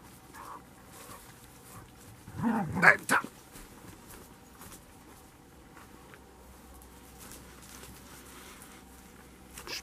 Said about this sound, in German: kaum ist ruhig, müssen die Hunde wieder Alarm machen